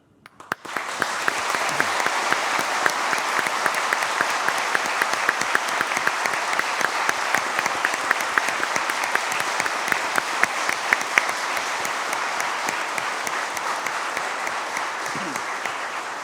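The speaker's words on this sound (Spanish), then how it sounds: "El público les puede brindar un merecido aplauso." Sustained applause from a large audience at a swearing-in ceremony for lawyers before a Supreme Court, steady and dense clapping that carries on for over fifteen seconds without letting up.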